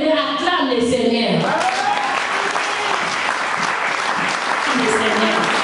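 Congregation at a women's church convention breaking into loud, sustained applause and acclaim, a dense wash of clapping that rises right after a preacher's voice and stays full to the end.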